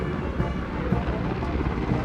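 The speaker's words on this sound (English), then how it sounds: "are Mi-17 V5 helicopters of the 155 helicopter unit." Mi-17 V5 helicopters of the Indian Air Force's 155 Helicopter Unit fly over the 2022 Republic Day parade in India, producing a steady, dense rotor rumble with a faint rhythmic beat.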